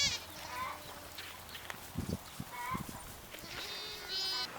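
Goats bleating on a ranch, several wavering calls at varied distances, some near and loud, scattered across the moment with farmyard noise and a little human talk.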